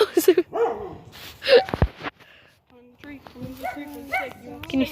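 A dog barks in a few quick, close yips, and a person talks over and between the barks.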